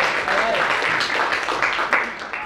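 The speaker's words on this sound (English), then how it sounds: "Everybody give a round of applause." Church congregation applauding in an upper room gathering, a steady dense wash of clapping lasting the whole moment, fairly loud and close, with some voices mixed in.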